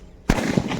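A Sivakasi Hulk Super Deluxe firecracker goes off in one sharp, loud bang followed by a brief crackling tail, close by and standing alone.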